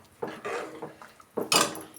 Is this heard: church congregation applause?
no